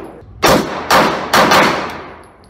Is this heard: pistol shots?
yes